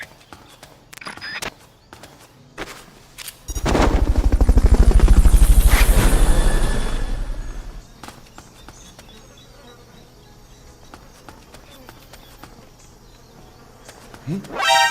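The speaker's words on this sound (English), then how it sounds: "Fulton recovery subject confirmed onboard helicopter." A helicopter in the PSP game Metal Gear Solid: Peace Walker swells into a loud, rapid rotor thrum for a few seconds, then recedes into a fainter background drone among clicks and game sounds.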